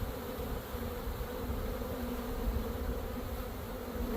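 Honeybees buzz in a steady, dense drone while a package is installed into a hive, the swarm close and continuous with no talk over it.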